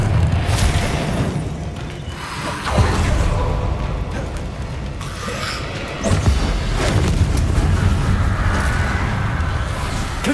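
Fire spell blasts in a fantasy wizard action game, loud booming bursts with whooshing flame, repeated several times over dense continuous game sound and effects.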